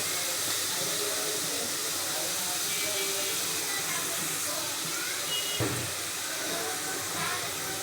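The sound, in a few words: spice paste frying for pomfret fish curry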